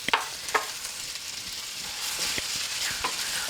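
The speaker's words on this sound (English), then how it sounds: "I'm cooking this on a medium-high right now to get the bacon all going and caramelizing the" Bacon and onions fry in a pan over medium-high heat, a continuous close sizzle broken by several sharp stirring scrapes and clatters, with no talking.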